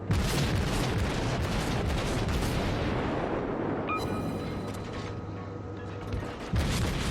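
Naval battle in World of Warships with a Japanese Kuma cruiser under fire: dense rumbling booms of heavy gunfire, loud and continuous, easing slightly before a fresh burst near the end.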